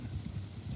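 Horse hooves clip-clop in the Viking strategy game War Sails Viking, a brief run of quick, even hoofbeats at moderate loudness with no talking.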